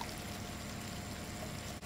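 Tinned plum tomatoes being poured into a pan for a Spanish chicken stew, a faint, steady wet pouring and sloshing that runs briefly and stops abruptly near the end.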